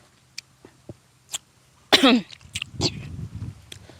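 A person outdoors in cold weather gives one loud, sharp sneeze that bursts out after a few quiet clicks and taps, followed by a softer breathy exhale and low rustling.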